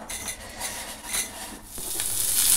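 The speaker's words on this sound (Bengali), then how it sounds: "এখানে ডাল ফোড়ানোর জন্য কালো জিরে আর পেঁয়াজ একটু ভেজে নিচ্ছি" Black cumin and onion frying in a pan as a tempering for dal, brief bursts of sizzle and spatula scraping against the pan, close and rising in loudness toward the end, with no talk.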